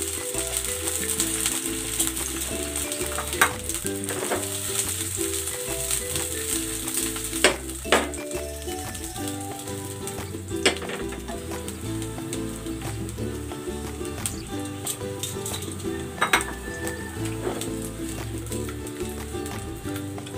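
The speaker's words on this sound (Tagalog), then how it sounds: "Ipiprito ko muna itong hotdog. Ito ay cocktail hotdog." Cocktail hotdogs fry in a little cooking oil, a steady sizzle running throughout with occasional sharper pops and crackles, close and moderately loud.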